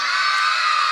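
At a church Vacation Bible School celebration, a crowd of children shouts and cheers together in a brief, loud, continuous burst.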